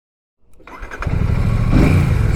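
Royal Enfield-style Classic 650 motorcycle firing up and pulling away, its deep, bassy exhaust rumble building steadily louder and close by after a brief silent start.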